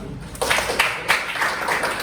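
Classmates clapping in a classroom during a teaching practice session, a scattered burst of hand claps starting after a brief pause and continuing steadily at moderate volume.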